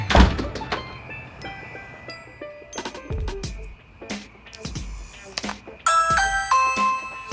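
A Switchbot button pusher presses a doorbell, with a mechanical thunk, then chiming ding-dong tones and electronic beeps that ring out toward the end, in a quiet indoor setting.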